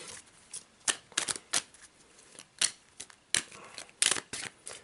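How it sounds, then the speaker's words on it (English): A deck of cards for the board game Circuitry being shuffled by hand: irregular bursts of crisp riffling and snapping, close up, with quiet pauses between. "you take the remainder of the circuit cards, you give them a good shuffle."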